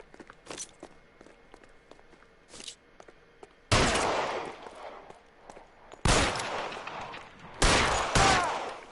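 Scattered footsteps and light clicks in L.A. Noire give way to three loud, sudden gunshot bursts with reverberant tails, each followed by quieter stretches, sounding close and sharp against the ambient scene.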